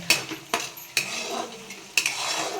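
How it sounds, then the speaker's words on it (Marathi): A metal spoon scrapes and clinks against a pan in a few sharp strokes while sautéing onion and spice masala, with a soft sizzle between them. "बघा आता चांगलं परतून घ्यायचं"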